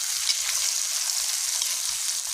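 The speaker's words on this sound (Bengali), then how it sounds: "তেলে দিয়ে দিব এলাচ আর শুকনো লঙ্কা, দিয়ে দিলাম রসুন থেঁতো করা, টমেটো আর পেঁয়াজ" Cardamom and dried chili frying in hot oil, a loud, steady, close hiss of sizzling that holds without pause and with no talking.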